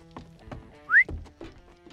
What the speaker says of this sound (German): Hör auf zu pfeifen